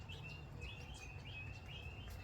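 Guinea fowl chick giving repeated thin high peeping calls, several short chirps in quick succession, faint against a steady outdoor background of noise and insects.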